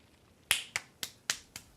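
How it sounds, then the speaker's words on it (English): Five sharp hand claps land in an uneven rhythm, close to the microphone and crisp, each with a quick decay into a quiet room. "Well, I'm clapping because I got through that."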